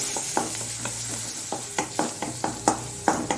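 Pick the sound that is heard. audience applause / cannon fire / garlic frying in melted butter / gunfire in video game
garlic frying in melted butter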